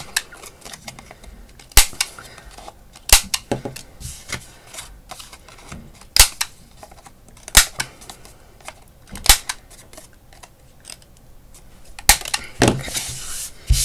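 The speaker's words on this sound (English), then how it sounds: "I'm actually just going to cut all the corners to round them." Scissors snipping the corners of small paper card cutouts to round them, sharp isolated clicks spaced a second or two apart, close and crisp with quiet rustling between and no talk.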